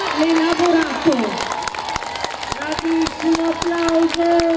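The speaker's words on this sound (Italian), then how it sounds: "Grandissimo applauso!" Crowd applause at an Italian town carnival parade in Ponte San Nicolò, scattered clapping and cheering outdoors mixed with a loud announcer voice and background music over a continuous street din.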